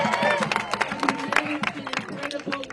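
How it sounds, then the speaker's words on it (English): A crowd at an outdoor protest rally applauds with scattered hand claps and murmuring voices, fairly close and lively, the clapping continuing unevenly throughout. "Big round of applause for Bob"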